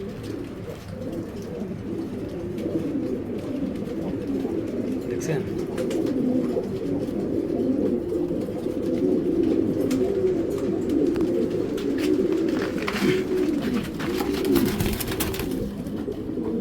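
A pair of racing pigeons coo in low, steady throaty rolls close by, running continuously while someone talks over them.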